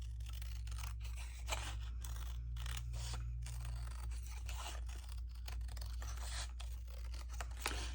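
Scissors cut through a paper strip in a quiet room, a run of crisp snipping and slicing strokes close to the microphone over a low steady hum, with no talking.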